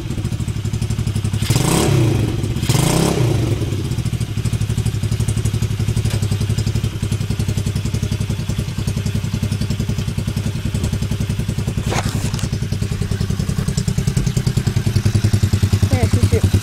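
A 110cc four-stroke Akuma Assassin motorcycle runs close by, a steady low idle with an even chugging pulse, broken near the start by two loud kick-start thumps and clatter.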